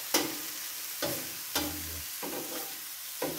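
Vegetables sizzle on the seasoned griddle surface of a Masterbuilt 1050 gravity-fed grill, with about five sharp spatula scrapes as they are pushed around over a low, continuous frying hiss.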